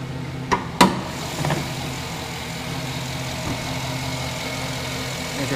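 A 2009 Chevy Silverado 1500 Z71 with its 5.3 liter V8 idling steadily under the open hood: a smooth, even low hum held throughout, with a couple of sharp clicks at the start.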